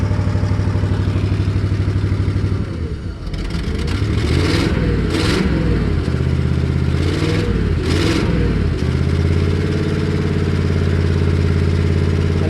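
A computer-controlled Ford engine running on propane with the throttle held partway open, a steady loud drone that dips briefly and then rises through several rhythmic revving surges before settling back to an even run.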